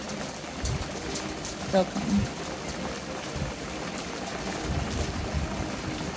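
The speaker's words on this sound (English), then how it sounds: "Oh, guys, the rain's coming back." Rain falls during a summer thunderstorm in West Kelowna, a steady outdoor hiss of rainfall throughout with people talking nearby over it.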